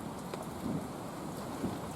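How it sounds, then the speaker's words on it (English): Steady heavy rain pours down on a wild hammock campsite by a creek, a dense constant hiss with no voices over it. "It's been absolutely tipping down with rain for the last 3 or so hours."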